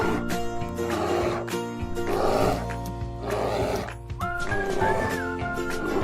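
A bear in a children's animal cartoon gives several rough, throaty growls in bursts, carried over continuous background music with a brief tonal melody near the end.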